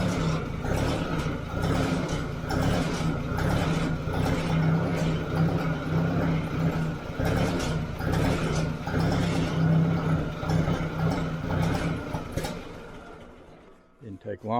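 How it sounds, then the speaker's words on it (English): A 1957 Ford tractor engine idles with a rattling, clattering mechanical chug after its fuel is shut off, running steadily before sputtering and dying near the end. "I'm just going to cut the gas off and let it run itself dry."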